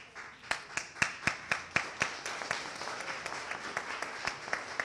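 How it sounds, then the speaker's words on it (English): An audience at a live Star Wars versus Harry Potter trivia game show claps in a steady rhythm, loud and close, with sharp evenly spaced claps rising out of a broader spread of applause, and no talking. "I'm just going to clap until people clap."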